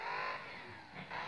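A BMW engine revs in the racing game Need for Speed No Limits, a short, loud, continuous roar that dips briefly and then rises again.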